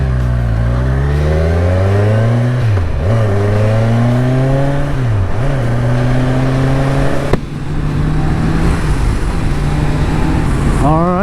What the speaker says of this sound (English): So the first ride on the Ninja 1000